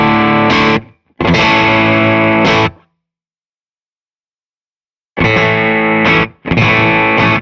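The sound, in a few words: Stratocaster electric guitar through overdrive pedal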